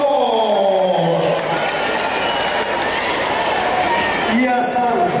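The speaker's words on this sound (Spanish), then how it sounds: "aplausos!" Crowd applause and cheering for a boxer at an outdoor boxing event in Puerto Maldonado, loud and sustained throughout, with an announcer's voice and crowd noise layered over the clapping.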